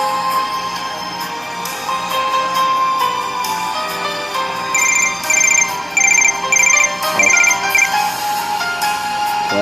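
A telephone ringtone sounds for an incoming caller on a radio show, repeated electronic ring bursts over a steady background bed, loud and close.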